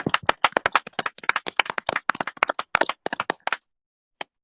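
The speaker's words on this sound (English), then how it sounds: "Let's clap that up." Small group clapping hands, loud close claps in an uneven rapid burst that thins out and stops, with one last isolated clap after a pause.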